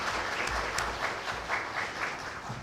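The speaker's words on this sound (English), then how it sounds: "Let's give a round of applause to Pak Ipe." Audience at a talk on social security in Indonesia applauding a speaker, a continuous, even roar of many clapping hands at moderate volume, no voices over it.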